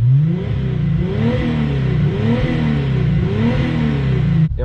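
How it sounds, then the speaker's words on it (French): A Renault RS diesel car engine fitted with two large rear silencers revs repeatedly, rising and falling in pitch in steady waves, loud and close throughout with no speech. "franchement elle fait un bruit pour un diesel c'est ouf"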